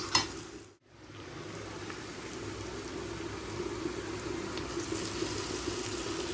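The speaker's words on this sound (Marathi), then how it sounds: "आणि आता ह्याच्यामध्ये आपल्याला खिमा ॲड करायचा आहे।" Mutton mince fries in a spice masala, a steady close sizzle that swells back after a brief dip near the start and carries on evenly with faint bubbling, no talk.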